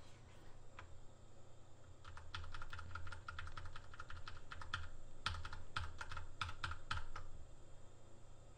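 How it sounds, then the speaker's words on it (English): Steady clicking of a computer keyboard being typed on, with rapid key presses in irregular bursts over a low background hum. "Sorry if you could hear my keyboard, it's pretty loud."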